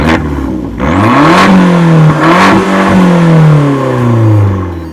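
A 1.4-liter turbocharged Fiat 500 Abarth engine revs hard, its pitch climbing and falling through several loud, close sweeps with a brief dip between pulls, heard alone without talk.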